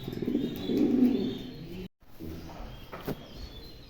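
Low, soft cooing of Mondi pigeons, rising and falling over a couple of seconds, followed by quieter coos and a faint rustle.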